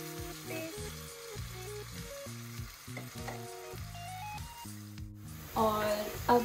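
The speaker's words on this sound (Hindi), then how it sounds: "सो यहाँ पे जो है प्याज ऑलमोस्ट भुन गई है. इसके अंदर now I am adding tomato." Chopped tomato hitting fried onions in a pan, a sizzle and stirring under a steady background of music-like tones, with a louder burst of spattering near the end.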